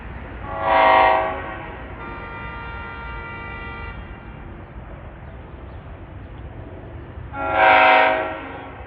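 Train 1263 running from Hoboken to Waldwick approaches near Secaucus/Rutherford, New Jersey, sounding two loud horn blasts several seconds apart over a steady rolling rumble of the train.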